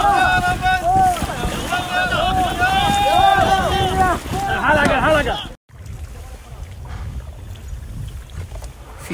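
A boat rowed on the Neretva river near Konjic, Bosnia, with wind buffeting the microphone and water noise throughout, while voices shout and chant loudly over the first half before the sound cuts to steadier wind and water.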